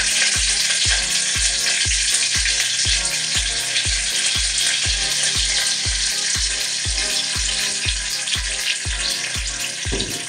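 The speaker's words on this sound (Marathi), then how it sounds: "लसूण खूप बऱ्यापैकी गरम झाले, तर गॅस कमी करून कढीपत्ता टाकून देते" Curry leaves and garlic crackle in hot oil for a Marathi-style prawn curry, a loud, dense, steady sizzle throughout, cut by regular low knocking pulses at a steady beat.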